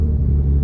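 A Porsche GT3 with a manual gearbox fires up, its engine settling into a loud, steady low rumble that fills the short moment without a break.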